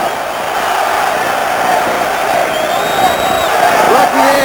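A large crowd at a boxing match roars and cheers loudly and continuously, with whoops rising through it, while an announcer talks over the noise.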